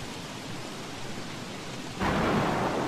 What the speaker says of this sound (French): mais non c'est parce qu'il pleut